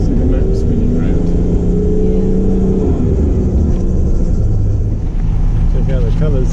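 A car engine labours in first gear on a mountain switchback road between Albania and Montenegro, a steady loud droning hum under continuous road and wind noise, with a voice talking over it.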